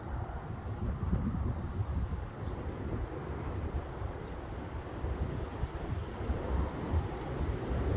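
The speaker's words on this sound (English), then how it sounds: "Now the wind is kind of starting to chill out a little bit." Strong, gusty wind roars steadily and loudly over an open setting, buffeting the microphone with a dense low rumble that swells and eases slightly without a break.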